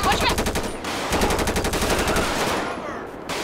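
Rapid automatic gunfire in the video game GTA 5 during a police roleplay; loud, close bursts of rattling shots in quick rhythm, pausing briefly and then resuming.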